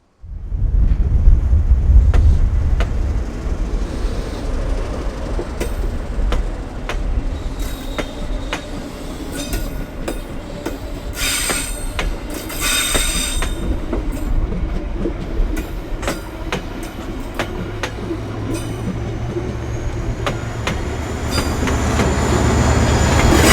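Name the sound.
passenger train departing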